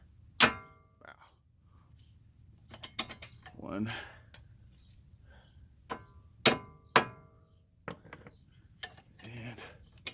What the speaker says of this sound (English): Now, we want to knock these out. Take a hammer.